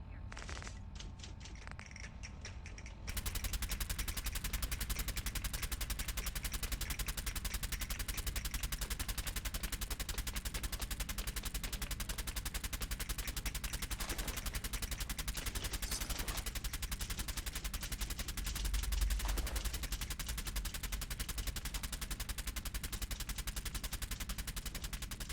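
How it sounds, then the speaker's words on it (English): Dense gunfire sound effects roll on for most of the span, a loud continuous crackle of shots after a brief quieter opening, with a few sharper bursts standing out. "Gunshot sound effects."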